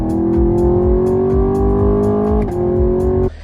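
A 450-horsepower naturally aspirated V8 car engine revs loud and close, its deep tone climbing steadily for about three seconds, dipping briefly, then cutting off sharply near the end.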